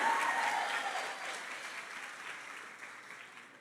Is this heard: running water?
no